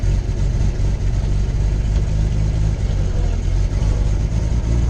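A 1928 Buick engine runs steadily and loud at close range, with a continuous low rumble and no talk, as the car pulls away in first gear.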